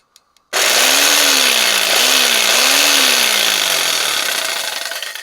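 A vintage WEN All Saw Model 909 electric power saw, run with no blade fitted, switches on sharply after two faint clicks and whines loudly and steadily with a wavering motor hum, slowly fading over about five seconds.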